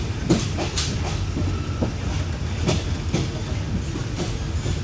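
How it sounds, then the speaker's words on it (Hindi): A passenger train leaving Bangkok station on the way to Ayutthaya rumbles steadily with rhythmic wheel clacks over rail joints, heard from inside the carriage as a constant loud roar. "तो ट्रेन चल दी है और स्टेशन छोड़ दिया है ट्रेन ने।"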